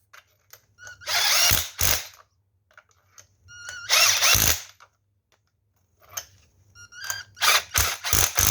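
An impact gun tightening a spark plug on a 2005–2011 Holden Barina TK, close and loud, in three short bursts of buzzing, rattling whir separated by pauses, the last broken into quick pulses.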